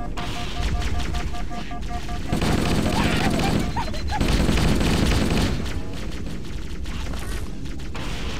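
Rapid bursts of automatic gunfire and heavy booms fill a video game shooter battle, crackling in clustered volleys that swell loud through the middle and ease off, with a voice speaking briefly over the action.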